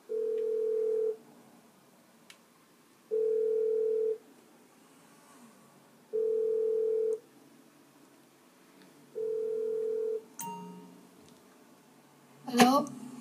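A phone ringback tone in Grand Theft Auto V Online, repeating four times in steady, evenly spaced beeps, followed by a brief clatter as the line picks up.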